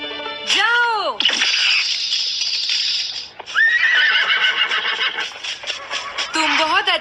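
A cartoon horse gives loud, drawn-out whinnies with rising and falling pitch, several neighs in a row alongside hoof clatter, close and dominant in the mix.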